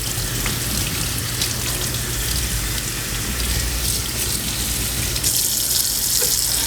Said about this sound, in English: we're going to run it under the water